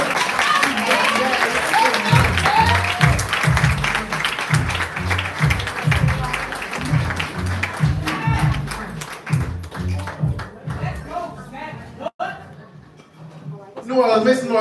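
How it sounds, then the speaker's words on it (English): Audience at a live poetry show in New Orleans claps and cheers loudly and continuously, with a host speaking over the crowd noise throughout and occasional laughter. "Y'all are already clapping for the phenomenal Zach Blunt."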